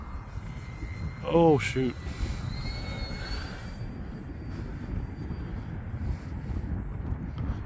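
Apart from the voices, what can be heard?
Arrows Bearcat RC model airplane flying in wind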